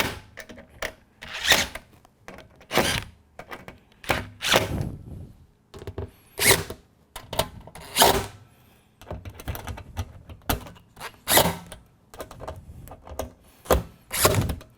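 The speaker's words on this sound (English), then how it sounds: "Once I hear the impact from the drill, I stop drilling." A power drill whirs and thuds in repeated short bursts, tightening screws into a metal duct, stopping and starting in an uneven rhythm, close by with no voices.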